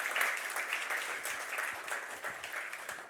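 A conference audience applauds after an AI talk, a continuous patter of many hands clapping at moderate volume, slightly distant and steady, with no talking over it.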